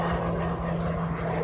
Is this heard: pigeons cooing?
no